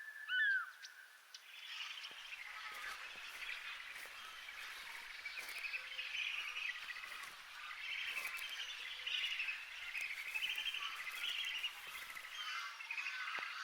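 Savanna and water birds call in Akagera, Rwanda, in a dense, continuous chorus of high chirps and squawks. The chorus is fairly faint and has no talking.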